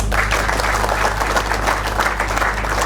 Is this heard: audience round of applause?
yes